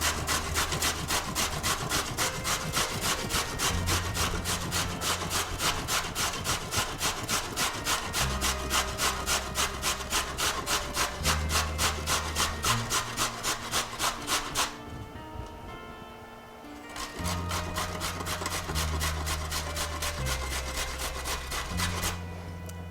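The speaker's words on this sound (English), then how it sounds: "I'm gonna grate the carrot" A carrot rubbed against a grater in a kitchen for a salad, with steady rapid rasping strokes repeating loudly and closely, briefly pausing near the end before resuming.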